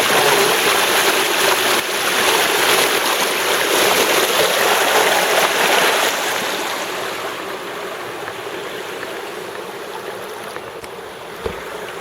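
Creek water rushes steadily as a pipe at a dam sucks it through, making a loud, close, broadband roar. The roar softens somewhat in the second half, and no one speaks.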